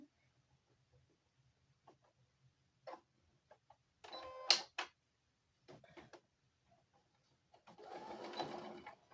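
A sewing machine stitches a quilt in short faint bursts with pauses and mechanical clicks between, then a longer steadier run of stitching toward the end, no voices.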